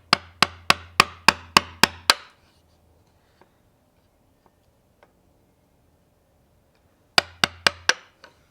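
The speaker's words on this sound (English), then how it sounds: "hold the chisel flat against that wall, and then I'm going to pull back on the handle a little bit and try to get it to bite in" A chisel driven into wood while fixing a blow-out, heard as two close, loud bursts of sharp rhythmic taps: a run of about seven strikes, a long quiet gap with a few faint knocks, then another quick run of four or five.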